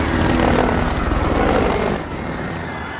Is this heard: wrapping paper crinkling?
no